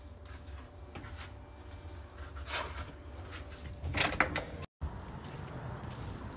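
A door opens as someone heads outside, with a few soft clunks and a brief rattling latch and handle sound, fairly close over a quiet room hum, before a short dropout.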